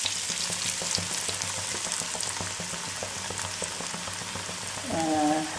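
Parippu vada lentil fritters fry in hot oil with a steady, close crackling sizzle, swelling louder near the end as more batter is slipped in.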